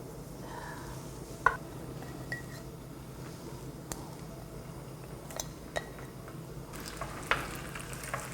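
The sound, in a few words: rice cakes frying in oil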